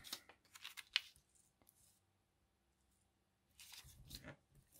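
Scissors snip through glossy magazine paper, cutting out a figure for a surreal collage, with a few close, crisp cuts at the start, a quiet pause, then a renewed burst of rustling snips.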